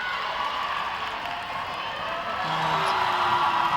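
Crowd at a youth netball match between Botswana and Samoa, a broad steady roar of cheering and shouting that swells slightly toward the end.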